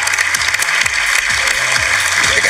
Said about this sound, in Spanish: Yo creo que ahorita sí un aplauso grande porque tenemos un grupo tremendo